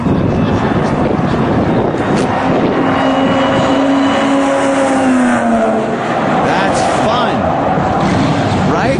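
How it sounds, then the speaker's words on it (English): A loud, continuous supercharged race car engine roars at close range, its pitch climbing and shifting as the motor revs and the supercharger kicks in, with people talking over the din. "You could hear the supercharger kicking in"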